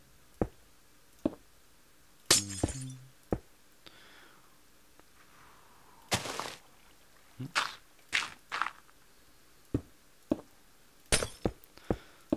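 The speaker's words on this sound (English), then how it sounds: "let's go ahead and put the glass" Glass blocks are placed one after another in Minecraft, giving short, sharp clicks at irregular intervals with quiet gaps between them, and a few brighter clinking hits stand out.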